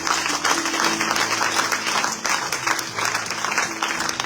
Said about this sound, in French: Est-ce qu'on peut acclamer les Seigneurs?